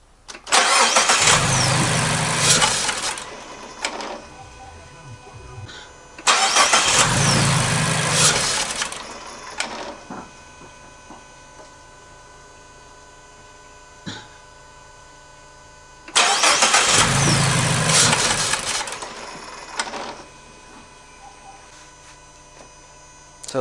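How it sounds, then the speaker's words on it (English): A car engine cranks and catches three times, each start roaring briefly before dying away into a low idle hum and near silence; the stalls come at irregular intervals, close and loud, with no talking. "the engine just keeps stalling"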